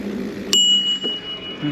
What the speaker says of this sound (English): Bush on the side of the trail rang my bell